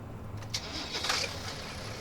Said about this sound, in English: The engine automatically starts because we've got the manual ignition switched off currently